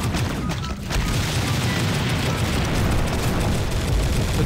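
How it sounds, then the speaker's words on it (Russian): Explosions set off in Garry's Mod, a dense rumbling boom that rolls on continuously after a brief dip near the start, loud and sustained with no talk over it. "Я могу какие-то взрывы делать, смотрите"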